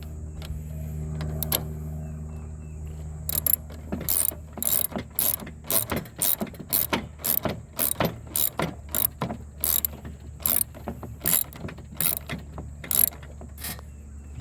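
Hand ratchet with a 14mm socket tightening a nut on a Husqvarna mower deck during a cable replacement, a long run of quick, close, loud clicking bursts after a few seconds of quieter handling.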